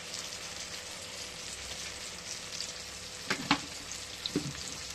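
Onion and spices, including chilli, coriander and cumin powder, frying in a pan with a low continuous sizzle, joined near the end by a few sharp spoon or spatula knocks, quiet and without talk.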